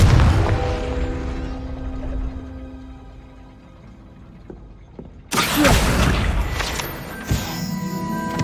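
A Confringo spell explosion in the Hogwarts Legacy video game erupts as a loud, sudden blast midway through, after a quieter stretch of game sound, followed by sustained rumbling and a second sharper burst.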